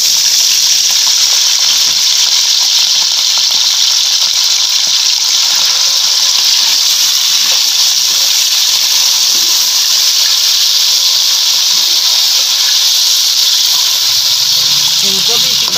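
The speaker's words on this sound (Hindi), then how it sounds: "अब मैं आलू डाल रही" Potatoes frying in hot oil for a green chickpea mixed vegetable pulao give a loud, steady broadband hiss that holds without a break, with a little low bubbling toward the end.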